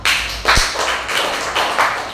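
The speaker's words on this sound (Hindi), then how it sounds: "वेरी गुड, ताली बजाओ।" Children in a classroom clap together in several quick rhythmic bursts, loud and close, with one sharp thump among the claps and no talking.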